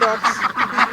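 Ducks quack close and loud in quick repeated bursts, roughly four or five calls in a second.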